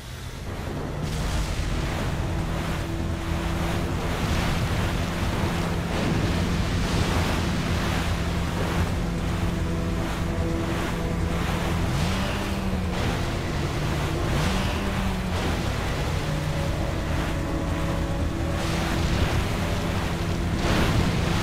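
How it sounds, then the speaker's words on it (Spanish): Ocean waves crash steadily in Resident Evil 4, a loud, continuous roar of surf and wind with harmonic game tones layered over it, running the whole time without speech. "¡Tenemos olas detrás!"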